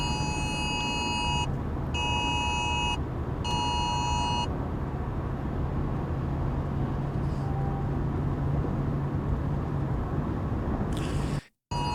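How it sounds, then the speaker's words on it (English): Rocket alarm warnings sound on a phone in the UAE desert, three evenly spaced bursts of high buzzing beeps in the first half, heard over a steady loud engine-like rumble of a vehicle. "Andrew Tate's phone's buzzing from rocket alarms as he enters the UAE desert"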